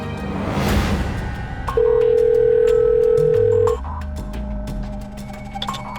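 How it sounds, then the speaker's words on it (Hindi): A telephone voicemail beep, one loud steady tone lasting about two seconds, preceded and followed by quiet line noise. "Please leave your message after the beep."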